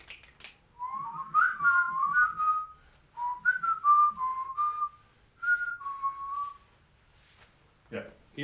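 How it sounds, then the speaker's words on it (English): A man whistles a wavering, bird-like tune in several short phrases with pauses between them, fairly quiet and close, followed by a brief breathy sound at the end. "Can you whistle?"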